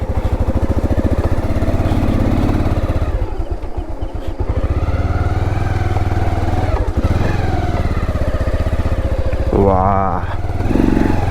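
A motorcycle engine revs and labours continuously while riding off-road through mud on an early-morning trail near Kabini, loud and close throughout, with a brief shout over the engine.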